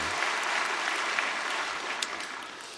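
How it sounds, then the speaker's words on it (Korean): A church congregation at a special early-morning prayer service claps together in a dense, even burst of applause that holds steady throughout without talk. "그래서 박수로"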